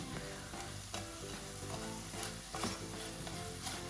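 Tteokbokki rice cakes cook in a sesame oil sauce with a steady, close sizzle and frying crackle, broken by a few soft stirring scrapes of the pan, with no talking.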